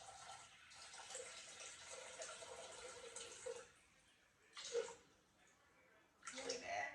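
Room-temperature water pours steadily into a mixing container for Portuguese bread dough, a soft continuous splashing that stops and restarts in short bursts near the end, with quiet speech over it.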